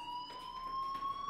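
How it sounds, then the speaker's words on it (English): A fire alarm rings out in the video game Life Is Strange as a steady, continuous electronic tone that holds unbroken at moderate loudness, with no other sound over it. "Hey, do you hear that fire alarm?"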